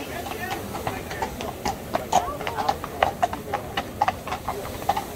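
Steady clip-clopping of horse hooves on pavement, many quick repeated knocks, with football supporters' chatter and voices murmuring underneath before Tottenham Hotspur versus Eintracht Frankfurt.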